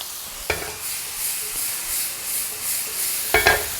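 Potatoes and button mushrooms tossed in a pan with black pepper, lemon and sea salt give a soft, steady sizzle with two sharp spatula scrapes near the start and end.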